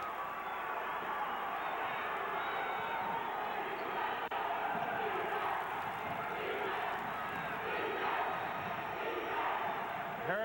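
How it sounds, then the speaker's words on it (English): Hurricane supporters in the stands at a 1998 New York State Class B high school basketball championship cheer steadily for their team on defense, a dense, continuous crowd roar with shouts rising throughout. "Hurricane supporters cheering for defense."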